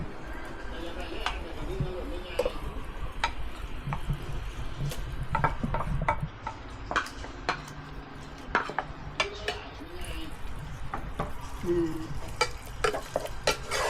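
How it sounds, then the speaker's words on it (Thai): Pork sizzles steadily as it stir-fries in a pot while a utensil repeatedly scrapes and clinks against the metal, with people talking over the cooking. "นำหมูไปรวนให้สุกก่อน"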